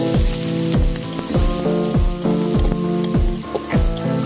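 Cumin, dried chillies and onion fry in hot mustard oil, giving a loud, steady sizzle with regular scraping strokes of a spatula stirring the pan, about two per second.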